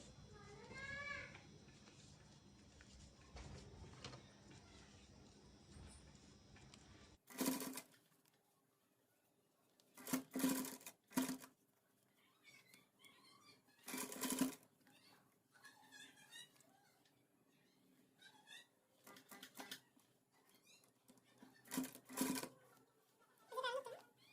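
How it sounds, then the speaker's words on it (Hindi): A sewing machine stitches a folded designer sleeve, running in several short bursts separated by pauses. A person talks during the opening seconds, before the machine starts. "अब इसे इस तरह से फोल्ड करते हुए हम सिलाई लगा लेंगे।"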